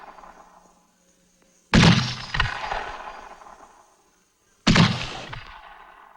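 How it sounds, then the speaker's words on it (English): Two heavy booming blasts from an 81 millimeter mortar, the standard American medium mortar, each loud and close with a long rumbling decay, separated by about three seconds of near silence. "America's standard medium mortar, 81 millimeter, range up to 3 miles"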